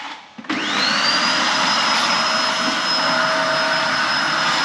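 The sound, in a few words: vacuum cleaner cleaning the shed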